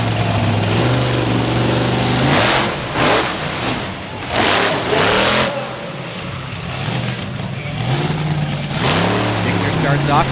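The Stomper monster truck engine revs loudly on an arena track at a monster truck show, with repeated surging roars and swells under an announcer's continuous commentary over the PA.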